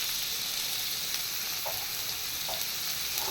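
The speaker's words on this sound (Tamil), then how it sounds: "இப்போ அந்த தோலை வதக்கிக்கலாம்." Snake gourd peel sautéing in a pan, a steady close hiss of frying with a few soft, spaced spatula scrapes, fairly quiet and unaccompanied by talk.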